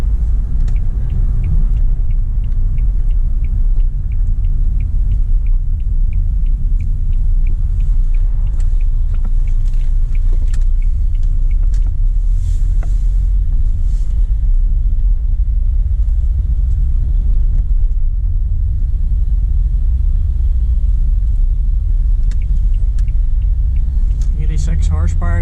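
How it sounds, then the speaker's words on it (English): Renault Modus diesel heard from inside while driving gently, a steady low engine rumble running throughout beneath someone talking. "You can still tell that you're driving a diesel, but if you drive it easy, you don't really notice too much engine noise."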